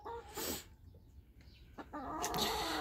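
A hen clucks in a backyard coop, several short broadband clucks close by, with a steady low farmyard background hum and louder bursts near the start and end.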